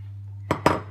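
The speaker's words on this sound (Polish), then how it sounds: "Jajka wbijamy do miski, do tego wrzucam mąkę migdałową." Eggs cracked into a bowl, heard as two quick sharp clinks against the bowl in close succession after a brief steady low hum, near and fairly loud.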